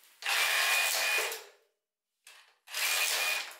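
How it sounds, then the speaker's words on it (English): An SDS Plus drill fitted with a rubber mallet attachment hammers base plates in two loud, close, rapid buzzing bursts, each about a second long, separated by a short silence and a brief blip. "Someone came up with an SDS Plus rubber mallet that can save us some calories on the long run."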